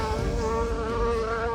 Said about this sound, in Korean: 꽃이 핀 나무 아래 서면 들려오던 꿀벌의 날갯짓 소리.